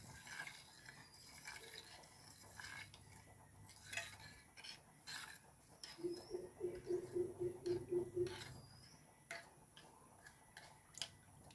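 Spoon stirring gelatin into a sago pudding mixture, a quiet run of regular tapping clinks against the bowl with a few scattered knocks, fairly close and soft.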